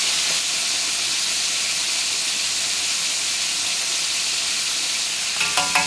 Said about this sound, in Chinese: 在煎的时候你要去调动它，不然受热不均匀。